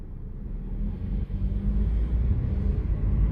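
A 2017 Jeep Renegade accelerating through second and third gear, a steady low engine and road rumble heard from inside the cabin, smooth with only a slight dip at a shift, no talk.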